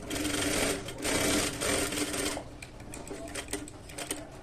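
A sewing machine runs steadily while stitching lining onto a blouse, whirring in two bursts and then giving way to lighter clicking and handling sounds, close and clear with no talk.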